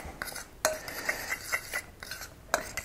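A utensil stirs dry flour and baking powder in a bowl for apple banana pancakes, giving a run of light scraping strokes and sharp clinks against the bowl, close and alone.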